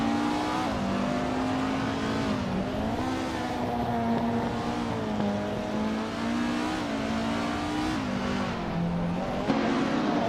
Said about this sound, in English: Amy's car is a 2014 Norma M20 FC, starting in 9th place